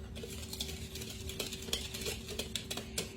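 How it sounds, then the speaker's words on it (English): A whisk stirring cake batter of flour with salt and baking soda in a bowl, quick irregular clicks and scrapes against the bowl, close and fairly quiet, no voices. "And we're just going to whisk this up."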